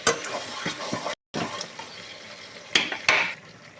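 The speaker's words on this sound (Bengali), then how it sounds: "আমি অল্প পরিমাণ জল দিয়ে দিচ্ছি, বেশি জল দেবো না" Water is poured in a small amount into a pan of chicken curry, giving a steady splashing and sizzling wash with brief clinks of the pan, close and moderately loud with a short gap midway.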